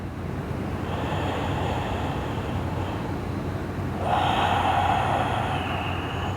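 Deep yoga breathing, a slow drawn-out inhale and then an exhale, heard close up as a soft, steady airy rush with no talking.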